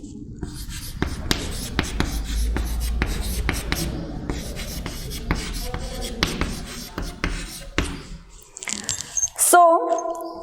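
Chalk or marker strokes on a classroom board during a physics lesson, with steady tapping and scratching close by in quick rhythmic bursts, ending with a squeak.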